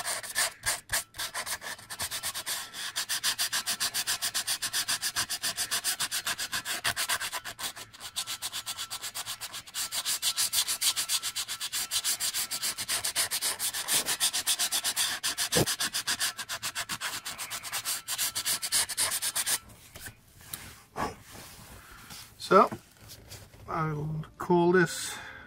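Sandpaper scrubs by hand over a Yanmar marine diesel heat exchanger in quick, rough back-and-forth strokes for about twenty seconds, then gives way to a voice talking.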